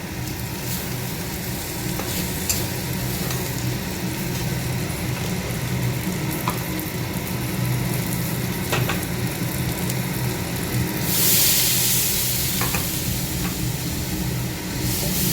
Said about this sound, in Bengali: আর এখন এই মাছটা দিয়ে দেবো, দিয়ে হালকা একটা ভাজা দেবো